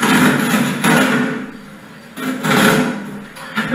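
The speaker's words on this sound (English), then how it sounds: "Cut straight across on the tape right here." A flathead screwdriver cutting packing tape on a box gives two loud, rough scraping and tearing strokes, close by, with a short gap between them.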